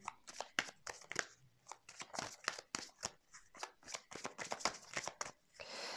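Tarot cards shuffled by hand before a reading, giving a dense run of quick papery riffles and flicks that stay fairly close and steady for several seconds, with no voice over them.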